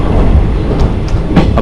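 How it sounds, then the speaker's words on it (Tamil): A Konkan Railway train pulling out of a station, loud continuous rumble and clatter of wheels on rails with brief squeals, heard from on board. "அப்படியே இந்த அழகான ஸ்டேஷன்லேருந்து அப்படியே ட்ரெயின் வெளில வருது."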